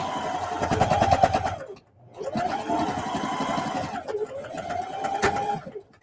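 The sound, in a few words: sewing machine stitching a lunch tote bag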